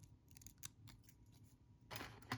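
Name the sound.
scissors cutting peacock swords off the stem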